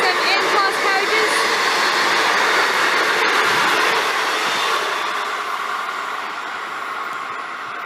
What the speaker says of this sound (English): N463 leading. With some N-class carriages.